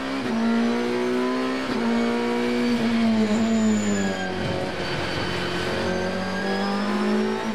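Ferrari and Audi race cars accelerating hard at a race start, engines roaring loudly with rising revs and quick gear changes, several cars blending together at close range.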